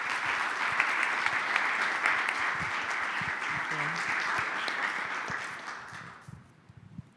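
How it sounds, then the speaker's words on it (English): A conference audience at a European health event gives a dense round of applause, steady and full for several seconds before tapering off into a few scattered claps, with a voice briefly heard beneath it. "maybe a round of applause for everyone involved"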